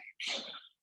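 A single short, sharp sneeze during a live yoga class, quiet and slightly distant, with nothing else around it.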